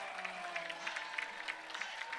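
A crowd at a college football game in Cookeville, UT Martin at Tennessee Tech, gives a distant, steady roar of cheering and clapping throughout.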